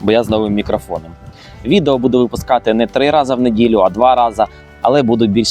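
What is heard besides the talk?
No everyday noise stands out behind the speech.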